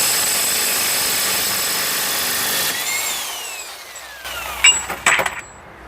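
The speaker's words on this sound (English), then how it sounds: "let's remove this axle nut." Power tool loosening the axle nut on a 1998 Honda Odyssey during a wheel bearing job: a loud, steady high-pitched whine running several seconds, dropping in pitch as it winds down, then a few sharp knocks at the end.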